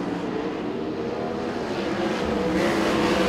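USAC/CRA sprint cars race around Perris Auto Speedway during the Glenn Howard Classic, engines roaring in a loud, continuous blare with several cars overlapping as they run down the front straightaway, with no talk.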